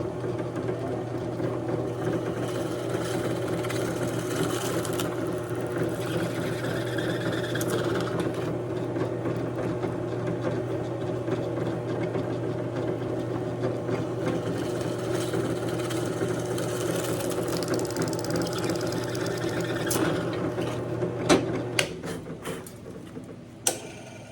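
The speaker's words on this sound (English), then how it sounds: "so I don't have to remove all this wood with the router bit" A router bit trims the edges of wood for a new Strat-style guitar pickguard, making a continuous close motor drone that runs unbroken before cutting off, followed by a few handling clunks.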